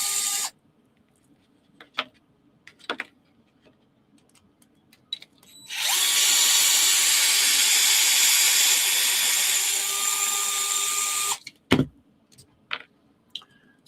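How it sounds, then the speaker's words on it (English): A power drill whirs steadily for several seconds, loud and close, framed by scattered clicks and taps of handling before and after, while building a Tamiya F150 Ranger XLT kit. "That's why we have power tools."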